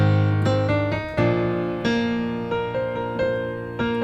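Piano line from a song played with the sustain pedal held, notes blurring and ringing into one another in a slow, flowing rhythm, close and alone.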